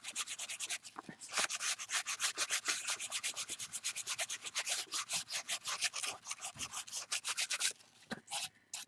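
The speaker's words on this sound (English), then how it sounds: "I'm still sanding this part down" Sandpaper rubs in fast, steady back-and-forth strokes over a painted wooden heart piece, close and crisp, with a short pause near the start and the strokes slowing at the end.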